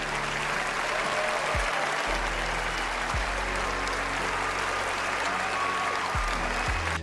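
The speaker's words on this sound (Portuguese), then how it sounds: "aplauso pra você" An inserted applause effect during a World of Warcraft: The War Within patch discussion, steady broadband clapping that holds level throughout, with faint talk and low thumps beneath.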